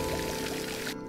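Water pouring from a watering can in LEGO Harry Potter Years 1-4, a steady splashing stream filling nearly the whole second and cutting off abruptly just before the end.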